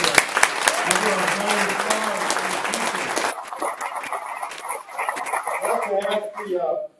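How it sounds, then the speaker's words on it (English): Audience at an awards luncheon claps in a dense burst of applause that thins and fades, with a dog barking and whimpering intermittently nearby. "I think they deserve another round of applause."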